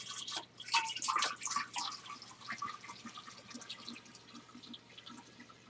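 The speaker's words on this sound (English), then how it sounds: "And so I'm going to pour this in here." Peach tea pours into a large kombucha vessel of about a gallon and a half, giving close, trickling and dripping liquid sounds that are busiest early and then thin into scattered drips.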